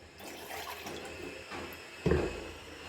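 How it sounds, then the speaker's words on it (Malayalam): Water poured into a pan for chai, a steady close trickling pour that swells into a brief louder splash near the end. "വെള്ളം ഒഴിക്കാം."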